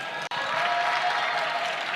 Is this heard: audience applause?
yes